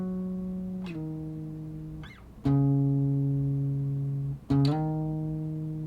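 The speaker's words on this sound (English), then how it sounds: "so I added on another one in a lower register." A low, sustained electric guitar line with smooth effects, playing long held notes that slide and change pitch in a few slow steps.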